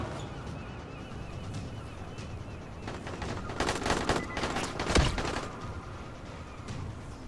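Gunfire in the zombie video game Dying Light, a dense burst of rapid shots and rattling volleys building in the middle and then thinning out against a busy background of game noise.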